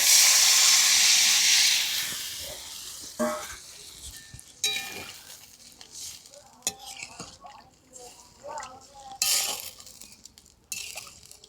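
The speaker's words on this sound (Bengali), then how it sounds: "ঝোলটা ফুটছে" Fish curry gravy with turmeric and water bubbling in a pan, a loud hissing sizzle at first, then quieter simmering broken by scattered clinks and stirring knocks.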